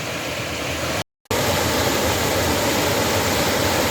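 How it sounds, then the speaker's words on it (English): Creek water cascading over a small falls on a hike to Horton Spring in Tonto National Forest, Arizona: a steady, loud broadband rush close by, with a brief dropout near the start, no voices. "That's another little cascading falls."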